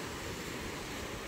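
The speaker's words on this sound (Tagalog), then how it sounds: "napakalaki na ating alon ngayon" Large ocean waves surge continuously at a fish terminal port in Tanza, Cavite, a steady broadband roar of surf with wind noise buffeting the microphone throughout, with no voices.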